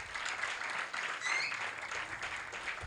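A church congregation clapping together in praise of God, steady rhythmic applause at moderate distance with a faint voice briefly over it.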